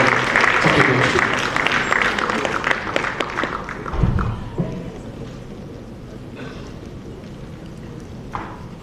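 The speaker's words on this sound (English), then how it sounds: "Big round of applause." Audience applause greeting a speaker at an event on promoting peace in Sierra Leone, a dense steady clapping that swells early, then thins and fades toward the end.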